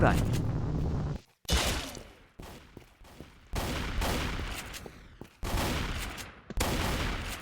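Gunfire in a Roblox shooting game plays as repeated bursts of rapid automatic shots that cut off abruptly between rounds. The fire is loud and close, with a voice talking over parts of it.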